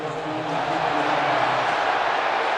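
At a Missouri at Georgia college football game, a large stadium crowd reacts to a play with a steady, loud roar of massed voices that rises slightly and holds, with no distinct cheers standing out.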